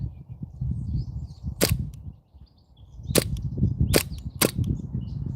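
An airsoft gun on an HPA SSQ adaptor fires four sharp, loud snapping shots, spaced unevenly, over a steady outdoor background with no speech.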